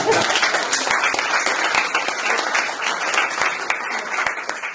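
Audience at a popular-education conference in Mulhouse applauds their president, Mr. Eisenegger: dense, sustained clapping from a large crowd, loud and steady throughout with no break.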